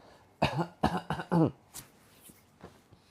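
Several sharp coughs in quick succession, followed by a few softer coughs and throat noises, close by in a quiet room.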